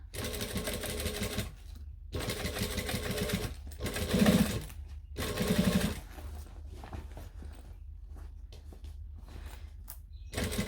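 A sewing machine stitching along a bag, running in several short bursts of rapid mechanical clatter separated by quiet gaps, close and moderately loud.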